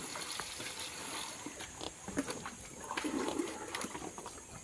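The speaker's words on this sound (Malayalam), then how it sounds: "നല്ലോണം ഞെരടി കഴുകണം, അതിനകത്ത് മണ്ണും പൊടിയൊക്കെ പോകാൻ വേണ്ടി." Freshly dug turmeric is rubbed and washed in water to loosen soil, giving a quiet, continuous sloshing and splashing with no voices.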